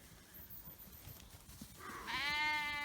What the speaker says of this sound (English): Go and have a look at the sheep.